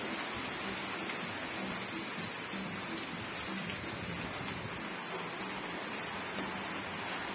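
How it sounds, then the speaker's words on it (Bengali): Heavy rain at dusk during a daylong downpour, pouring steadily onto a rooftop and trees in a dense, unbroken hiss that holds even and loud throughout. "এই তো এই যে বৃষ্টি"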